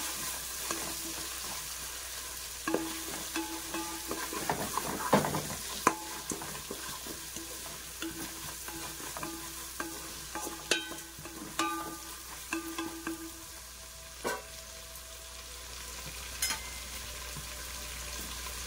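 Masala for veg biryani fries in a pan with a soft, continuous sizzle, broken by scattered clinks and scrapes of a spoon stirring it, with no talking.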